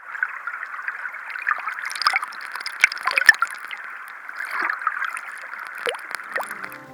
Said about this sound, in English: picked up little drops of water provided by my hand